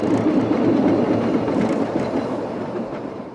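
Fichtelbergbahn 750 mm narrow gauge steam train running in Saxony, a continuous rolling rumble with clickety-clack of wheels on rail, close and fairly loud, gradually easing off toward the end.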